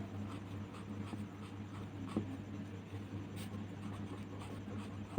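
A hand writes out a Hindi sentence on paper, with faint continuous scratching strokes and occasional taps over a steady low background hum.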